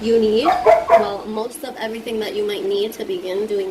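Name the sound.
dog barking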